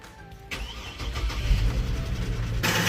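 A car engine starved of oil starts and runs with a rough, steady mechanical rumble, carrying a faint ticking from the valve lifters close to the engine and rising slightly in loudness before a burst of hiss.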